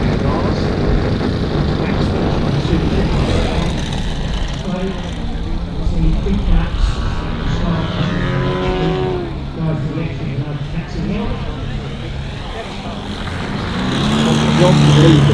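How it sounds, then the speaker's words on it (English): Model aircraft engine at a Weston Park model air show, a model plane taxiing downwind before takeoff, a steady droning hum heard at a distance under ongoing commentary and crowd noise, swelling louder toward the end. "So there's Lars and Joel taxiing downwind, as much as it is ready to take off"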